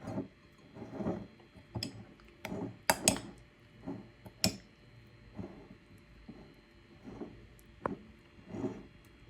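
Mayonnaise and garlic sauce for sprat toasts being stirred in a bowl, with a run of clinking, scraping utensil taps in an uneven rhythm, close and moderately loud, and no talking.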